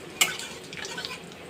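Cumin, cardamom, a dried red chilli and bay leaf fry in a pan as a utensil stirs them, with one sharp metallic scrape near the start followed by softer scraping and a light sizzle, close and fairly quiet.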